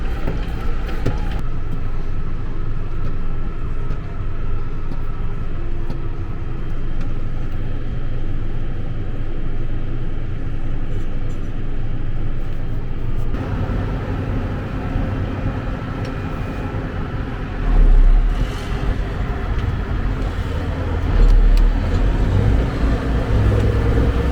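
A big red Case tractor tows a large tractor stuck while pulling a plow in hard ground, its diesel engine giving a steady low rumble close by that swells briefly near the end.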